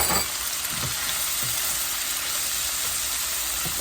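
Cumin plus red and black pepper go into a hot pan, where oil sizzles and fries in a loud, steady, close hiss with a few faint stirring scrapes underneath.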